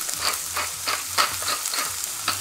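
Garlic sizzles steadily in a hot pan while mushroom risotto is being started, with a constant crackling hiss and soft stirring scrapes.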